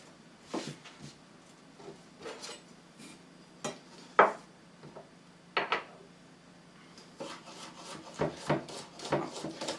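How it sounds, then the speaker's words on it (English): A knife loosely chopping peeled garlic on a board sounds as close, irregular wooden taps and knocks, sparse at first and then quicker, with no talking. "We're only going to loosely chop this garlic"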